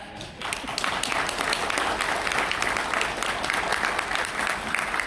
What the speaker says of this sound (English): that applause was for you guys, not for us